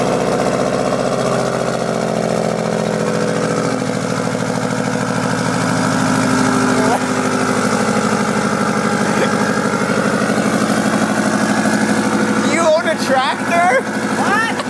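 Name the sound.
Subaru WRX STI engine idling with 3 inch straight pipe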